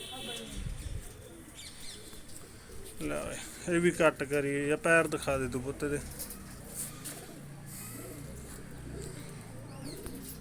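Pure-bred white pigeons coo softly in the background while people talk loudly over them for much of the time.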